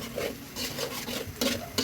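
A spatula scrapes and stirs a thick spice paste in a pan for a gentle sauté, in repeated rasping strokes with a few louder scrapes near the end, close by and with no talking.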